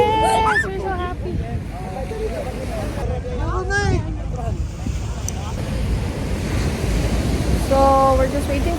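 Rough sea waves at El Nido, Palawan, a constant heavy rush of surf mixed with wind buffeting the microphone, while people talk close by and a voice rises over it.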